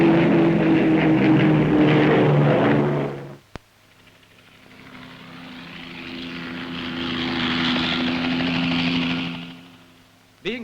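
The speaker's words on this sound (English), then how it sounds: "flying boat, once a familiar sight in Evans Bay, comes in on a very low-level run" A Short Sunderland flying boat makes a very low-level pass, its piston engines droning loud and steady with a rising, swelling roar as it draws near, following a brief break.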